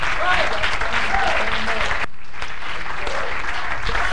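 An audience at a church fall fire rally claps loudly and steadily for a mission team. The dense applause cuts out briefly midway and then resumes, and voices can be heard beneath it.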